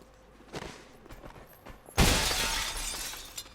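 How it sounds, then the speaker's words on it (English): Window glass shatters in XCOM 2 Long War as a soldier crashes through a window, a loud, sudden burst of breaking glass after a few soft thuds and footsteps. "Now that crashes through a window"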